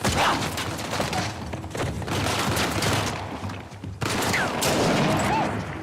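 Gunfire in the video game Uncharted: The Lost Legacy, a dense rattling fusillade of shots with a brief gap, loud and continuous over jungle ambience.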